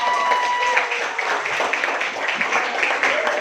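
Students in a classroom clap their hands, a busy, near patter of many palms mixed with chatter and voices throughout.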